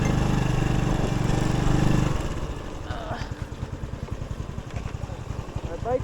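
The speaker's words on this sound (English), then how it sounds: "My bike stalled." A motorbike engine idles with a steady low drone, then sputters into uneven, irregular putters as it stalls on a rural road in Vietnam.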